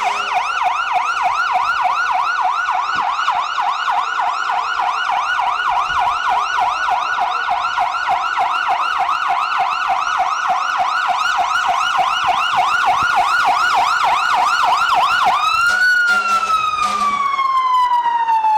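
Fire engine siren from a Henry Township fire department engine passing in a Fourth of July parade in Akron, a loud steady wailing sweep that repeats, then shifts to a falling yelp near the end, close by.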